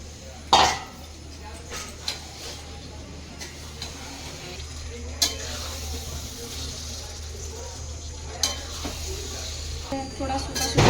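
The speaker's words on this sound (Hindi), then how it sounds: "अब हम चिकन डालेंगे।" Chicken pieces go into a pan of fried masala for a Bengali-style chicken potato curry, with a sharp clatter near the start and scattered light knocks of utensil against pan over a steady low kitchen hum.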